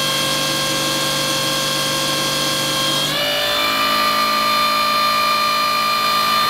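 A brushless fuel pump runs on a test bench at about 90 psi and 13.5 volts, with a steady, loud electric whine. Partway through, the pitch drops abruptly to a lower, steady hum.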